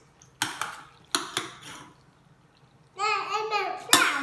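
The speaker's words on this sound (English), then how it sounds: "Give it all a good mix." A child stirs a roasted aubergine and courgette pasta bake with a spoon, making a few sharp clinks and scrapes against the dish. A young child babbles in between.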